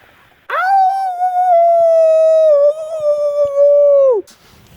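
A man imitates a dingo howl with one long, loud, steady vocal note held for nearly four seconds, then a brief falling dip at the end, heard up close in a quiet outdoor setting.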